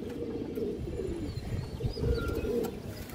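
A female Budapest high flyer pigeon coos softly at close range, low throaty calls rising and falling over a few seconds with faint background rustle.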